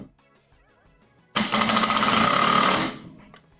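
A power drill drives a pocket hole screw into a board during a woodworking build. After a quiet start there is one loud, close whirring burst of about a second and a half, then it stops.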